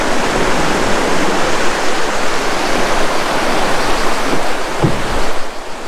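Loud, steady rush of river water flowing from the Blue Eye spring in Albania, heard close by as a continuous broadband roar beside a terrace where people sit, with a brief thud near the end.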